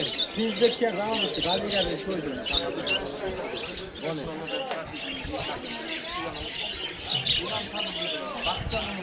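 Caged budgerigars at a bird market chirp and twitter densely and continuously, with other birds cooing in the background and voices from the market mixed in.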